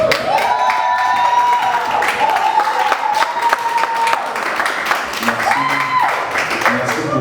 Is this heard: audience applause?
yes